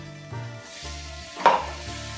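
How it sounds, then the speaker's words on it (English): Bell peppers and tomatoes hit a hot pan for a peperonata stew, making a brief sizzle with a sharp crackling burst near the end and no talking. "We're ready to put in our peppers and the tomatoes."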